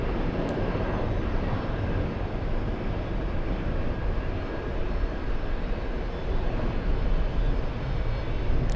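An airliner lands at the airport, its engines a steady broadband roar heard from a distance and holding constant throughout.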